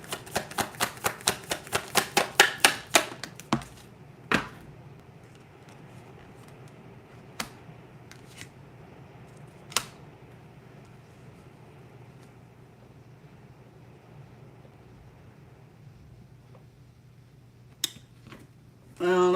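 Tarot cards are shuffled in a quick, rattling burst of rapid flicks for a few seconds, followed by a quiet stretch with only a handful of isolated soft taps and clicks.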